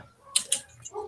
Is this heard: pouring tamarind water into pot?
no